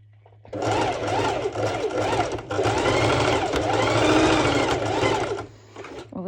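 A sewing machine stitches binding onto a mesh top, running in loud, steady bursts with a rhythmic mechanical whir and brief pauses between runs.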